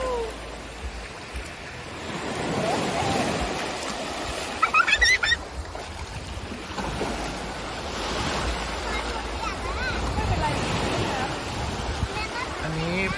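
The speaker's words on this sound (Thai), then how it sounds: "อันนี้เป็นบรรยากาศของทะเลชะอำนะครับ" Sea waves breaking at Cha-am beach in Thailand, a steady wash of surf with gusts of wind buffeting the microphone, and someone talking over it.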